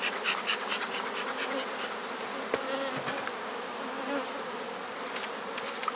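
Honeybees buzzing at a well-populated hive ready for supers, with eight frames of brood: a dense, continuous hum close by, with brief louder passes of individual bees and no talking.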